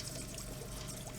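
Molten gold pours from a crucible into a tank of water, giving a soft, steady pouring rush with faint trickling, quiet and close, with no voices over it.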